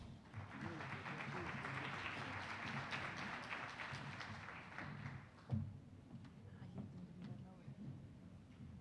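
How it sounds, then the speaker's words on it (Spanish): Conference audience at an international constitutional law congress gives applause that is fairly quiet and distant, fading out midway as a thump and voices take over. "recibámosla con un fuerte aplauso"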